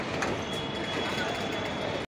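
The Shramjeevi Superfast Express, a daily superfast train between New Delhi and Rajgir, running along the track with a steady, loud rumble of wheels and carriage noise and a faint high squeal, heard from on board.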